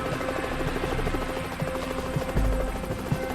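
Marine One squadron helicopter in a steady, continuous rotor and engine drone, with a few faint thumps and knocks over the top and no voices.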